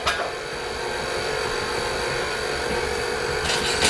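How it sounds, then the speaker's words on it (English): An electric stand mixer runs on its low stir setting, a steady whirring motor hum with a grinding texture that holds at even loudness for several seconds, with no talking. "I just got my mixer on stir"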